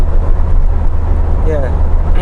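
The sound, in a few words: Lotus Exige sports car driving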